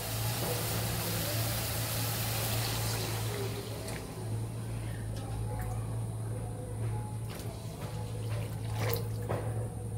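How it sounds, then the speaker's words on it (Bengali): Hot water pours into fish curry simmering in a pan with oil and spices, a steady broadband splashing rush that is strongest for the first few seconds, then thins over a constant low hum. "এবারে আমি গরম জল দিয়ে দেব"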